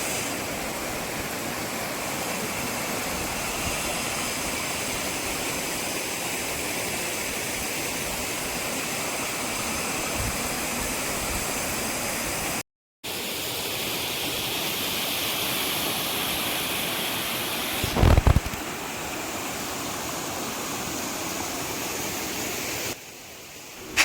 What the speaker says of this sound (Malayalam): ആ വെള്ളം ഒഴുകുന്ന ഒരു ചെറിയൊരു പുഴയും കാര്യങ്ങളൊക്കെ ഉണ്ട്